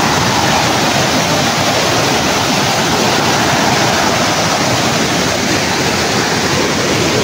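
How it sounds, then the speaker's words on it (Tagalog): A large river in a fern-covered valley rushes steadily, a dense, unbroken roar of flowing water that stays close and loud throughout with no voices. "Ang ilog dito, malaki."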